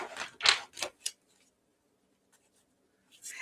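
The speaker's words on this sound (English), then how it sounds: "when I shuffle and the cards clank on the wood" Tarot cards are shuffled and knock against a wooden surface in a few quick, close clattering bursts, then a pause before another brief riffle.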